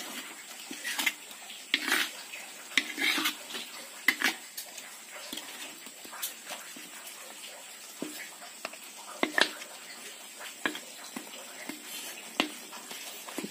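Chicken stirred as it cooks in a pot, giving a run of scattered light scrapes, clinks and taps against the metal, soft and close, with no talking.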